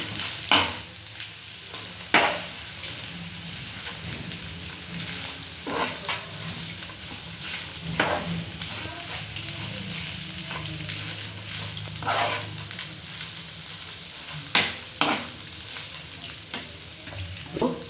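Potato stuffing for aloo bonda being stirred in a pan, steady sizzling under repeated scraping strokes of a spoon, close and continuous with sharp clinks at intervals.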